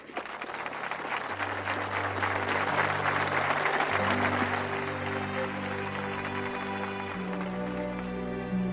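Steady crowd applause fills the space, a dense wash of clapping with a low sustained musical tone running beneath it throughout.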